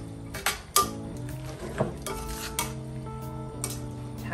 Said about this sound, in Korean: 올리브 오일 조금만 더 한 번 정도 주질하고 같이 섞어볼게요